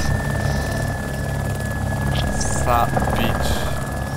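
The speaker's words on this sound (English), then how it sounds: "Chopper!" A helicopter in the survival video game DayZ gives a steady whirring drone with a constant high whine throughout, while a player talks briefly over it.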